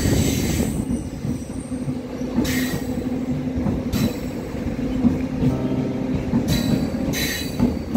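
A Bengaluru suburban railway MEMU train runs between stations, heard from on board as a steady loud rumble of wheels and motors with periodic high metallic squeals from the rails.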